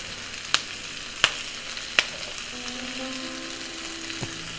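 Spices with turmeric fry in a hot pan, giving a steady soft sizzle broken by three or four sharp clicks of a utensil against the pan, with no talking.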